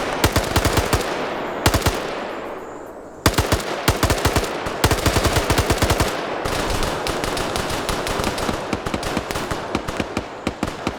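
Dense automatic gunfire in a PvP shooter match, loud close bursts of rapid shots that run almost nonstop, broken by a short pause and a fading tail before firing resumes.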